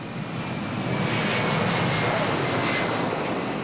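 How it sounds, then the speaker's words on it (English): An airplane in flight on a long-haul journey gives off a steady, loud, continuous engine roar with a broad, even hiss throughout and no talking. "A 20-hour plane journey without so much as a decent video"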